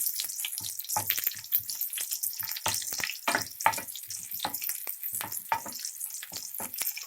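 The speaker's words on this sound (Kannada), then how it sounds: "ಈರುಳ್ಳಿಗೆ ಸ್ವಲ್ಪ ಕಲರ್ ಚೇಂಜ್ ಆಗಬೇಕು, ಅಲ್ಲಿಗಂಟ ಫ್ರೈ ಮಾಡ್ಕೊಳ್ಳಿ." Cinnamon, cloves and onions frying in a spoonful of hot oil, a steady close crackling sizzle broken by repeated scraping stirs.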